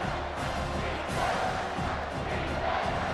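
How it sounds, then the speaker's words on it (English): Football stadium crowd cheering and roaring during a defensive stand in the red zone, a loud, sustained wash of voices that swells and stays full throughout. "And the crowd coming to life here, trying to help this defense down in the red zone."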